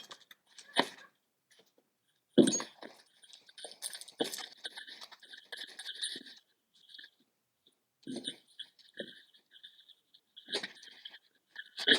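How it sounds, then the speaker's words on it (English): Scissors cutting open taped packaging on a Christmas tree snack cart, a scattered run of sharp snips and crinkly clicks in short bursts with quiet pauses between, close and fairly faint. "I gotta use scissors to cut this."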